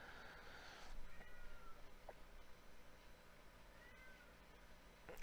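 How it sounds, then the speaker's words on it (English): A house cat meows repeatedly at a low level, several drawn-out calls spread across a steady indoor background hum in a room where sports cards are being opened, with no one talking. "oh, quiet cat."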